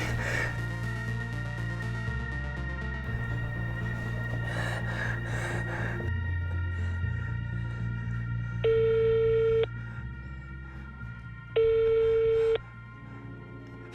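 Telephone keypad tones and a ringing call signal on a phone, a steady tone sequence with two long sustained beeps near the end, clear and alone without voices.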